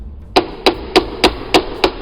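Six evenly spaced hammer blows strike a motorcycle sissy bar into its mount, each a sharp, loud metallic knock with a short ring, falling in a steady rhythm with no talking.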